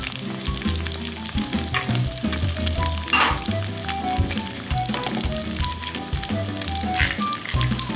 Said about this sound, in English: you can hear the sizzling in the background